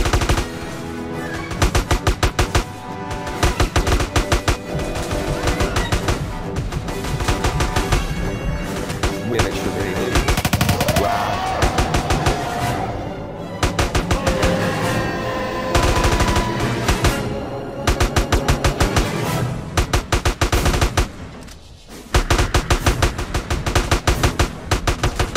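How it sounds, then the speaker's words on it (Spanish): Sustained machine gun fire in GTA San Andreas, loud, rapid bursts rattling almost continuously with brief gaps, dense overlapping volleys throughout. "disparen a matar"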